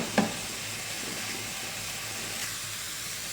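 Chicken frying in a pan with cumin, garam masala and chat masala, a steady soft sizzle and hiss throughout with a brief clatter near the start, no talk.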